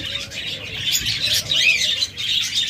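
Pet birds, budgerigars, cockatiels and lovebirds kept for sale, chirping in short bright bursts, fairly close, with no talk over them.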